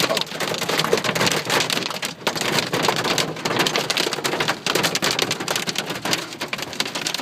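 A Nebraska hailstorm sends hail and rain pounding down in a dense, continuous, loud patter that stays close and unbroken throughout.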